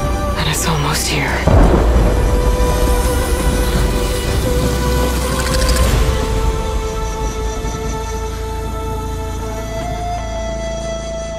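A thunderstorm in Horizon Forbidden West opens with a loud crack and heavy rumble, then thunder rolls on and fades beneath steady rain and lingering musical tones.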